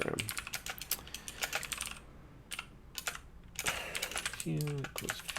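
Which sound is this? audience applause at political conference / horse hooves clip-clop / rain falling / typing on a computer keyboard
typing on a computer keyboard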